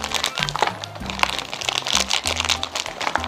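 A packet from a self-heating mutton paomo meal being torn open and unwrapped: continuous close crinkling and crackling of plastic wrap with sharp crunchy snaps throughout, no talking.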